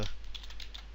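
A password being typed on a computer keyboard, a quick run of light, close key clicks over a low steady hum.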